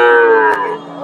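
A cow at the Hasokhali cattle market in Bogura lets out one loud, close, drawn-out moo that fills the whole moment and tapers slightly at the end.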